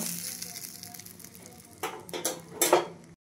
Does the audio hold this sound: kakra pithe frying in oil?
yes